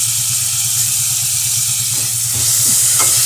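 Chopped tomatoes and salt sizzle steadily in a frying pan under a loud, continuous hiss, with a few soft utensil scrapes toward the end.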